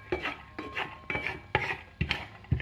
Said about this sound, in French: On va faire revenir du coup nos ingrédients dans la poêle.